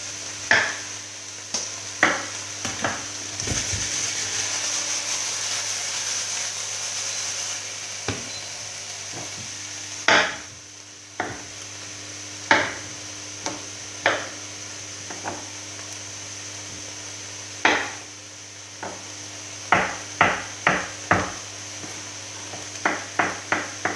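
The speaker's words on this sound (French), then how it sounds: "Je fais des tailles plus grosses pour les courgettes et les aubergines." Knife chopping courgettes and aubergines into large pieces for ratatouille, sharp distinct knocks on a board at irregular intervals, some in quick bursts, over a steady background hum.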